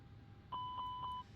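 An A321neo cockpit in Microsoft Flight Simulator 2024 sounds its engine 1 fire test alarm: a steady, clear electronic tone held for about three-quarters of a second, with a soft pulsing chime riding on it over quiet background hum.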